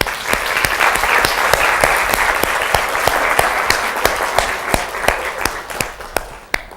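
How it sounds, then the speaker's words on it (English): An audience gives a sustained round of applause, loud and dense, with individual claps standing out sharply until it tapers off at the end. "I think you should all give yourselves a round of applause"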